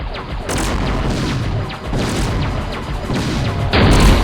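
A starfighter taking enemy fire in the Wing Commander space combat game: loud, dense booming explosions and crashing impacts that roll continuously, swelling again near the end.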